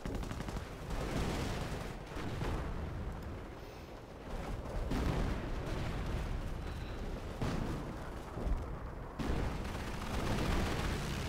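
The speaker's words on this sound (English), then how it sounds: "Hummel, where are you firing at?" Hummel self-propelled artillery firing in Company of Heroes, a dense, continuous battlefield roar of booming shots and rumbling blasts layered with distant gunfire, steady and loud throughout with no talking.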